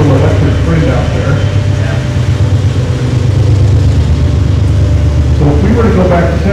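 A General Electric diesel locomotive with a 12-cylinder 7FDL engine rated at 4,500 horsepower runs with a steady, loud, low rumble that holds throughout.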